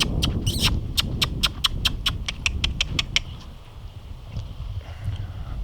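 Horses outdoors in cold weather clop along at a team roping setup, a quick, even run of sharp hoof strikes lasting about three seconds, followed by fainter shuffling and wind.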